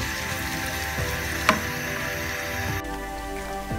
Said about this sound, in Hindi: अब हम इसमें डालेंगे प्याज। प्याज को हम हल्का ब्राउन कलर देंगे।